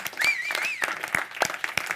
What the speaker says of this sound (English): So let's give Laurence another round of applause